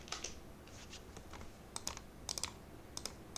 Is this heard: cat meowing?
no